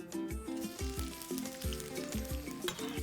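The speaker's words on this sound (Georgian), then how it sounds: "ზეითუნის ზეთი, დაახლოებით 30 მილილიტრი და ჩავყაროთ ხახვი" Onion sizzles in about 30 millilitres of olive oil, a crackling, spattering fry heard close up, with repeated stirring scrapes and clinks pulsing through it.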